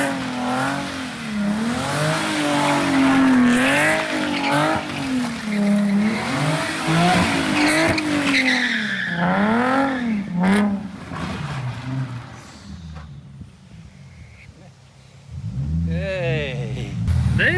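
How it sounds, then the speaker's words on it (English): A car doing spins on pavement, engine revving in repeated rising and falling sweeps while tires squeal and smoke, loud and close, with people talking over it; a quieter stretch near the end before the revving picks up again. "I say we do a couple of spins around here"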